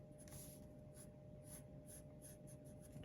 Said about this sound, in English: drawing that front right tyre